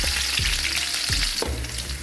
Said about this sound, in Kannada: ಈಗ ಉದ್ದಿನ ಬೇಳೆನೂ ಹಾಕೊಳಕತ್ತೀವಿ ನೋಡ್ರಿ. ಏನು ಮಸ್ತ್ ಚುಟು ಚುಟು ಅನ್ನತ್ತಾವು.